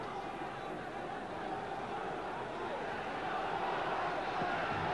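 Dense, steady roar of a boxing arena crowd yelling during the 1970 Floyd Patterson versus Charley Green fight, a continuous wash of many voices at even loudness with no distinct chant words standing out.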